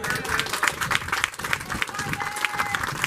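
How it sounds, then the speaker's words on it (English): A reunion audience claps for Marvin, a steady patter of hand clapping from a crowd with a voice speaking over it. "Thank you very much for that hand clap for Marvin"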